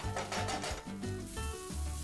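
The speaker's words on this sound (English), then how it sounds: "Then add the coarse grind masala which you previously made and then fry this for about 2 to 3 minutes." Coarse-ground masala frying in a pan for a Punjabi samosa filling, with steady sizzling and scraping as it is stirred, rhythmic and close.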